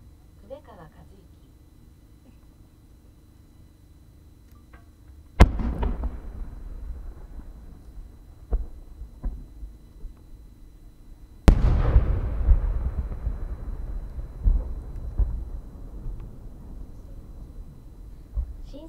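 Two sharp firework blasts at the 2021 Omagari fireworks winter show, each a loud crack followed by a long crackling, rumbling tail, with faint quieter pops between them.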